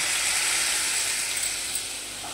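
Dried fish fritters dipped in a batter of rice flour, salt, turmeric, a little maida and besan fry in hot oil, making a loud, continuous, even sizzle with no talking.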